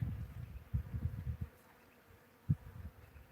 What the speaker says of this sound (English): Lots and lots of bees on it.